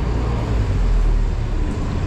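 Night-time city street traffic rumbles as a steady low wash of passing vehicles, fairly loud and continuous with no voices.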